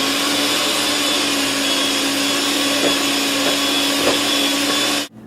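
An electric mixer beating lemon buttercream frosting, a loud, steady whirring drone that runs unbroken for about five seconds and then cuts off abruptly.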